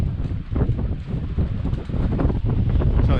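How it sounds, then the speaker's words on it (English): Strong wind blowing by the sea buffets the microphone in a steady, loud low roar with gusty surges and no clear voices. "Probably can't hear me talking because of the wind."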